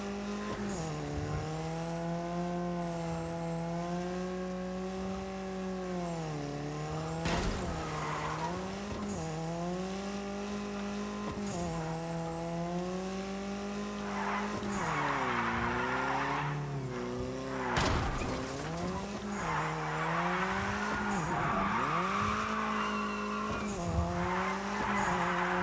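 Cars sliding under handbrake in the video game Destruction AllStars, with sustained tire squeals and a droning engine that rises and falls over several skids, punctuated by short loud crash bursts, no speech.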